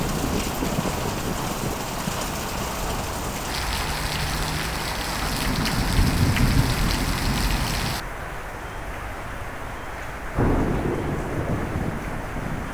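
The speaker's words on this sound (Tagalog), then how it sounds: "bumuhos naman ng malakas na ulan noong hapon" Heavy afternoon rain pours in Baguio City, a dense, loud, continuous roar of downpour on surfaces with gusts and shifts in intensity, no voices.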